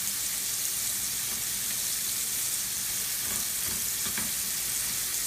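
Shrimp sizzle in a hot wok, giving a steady, dense hiss of frying with occasional soft scrapes and clatters, moderately close and without speech.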